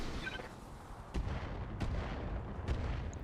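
Heavy weapon fire from a mech aimed at an Anubis mech in a battle video game: three deep booming shots spaced about a second apart over a constant low rumble, loud and close.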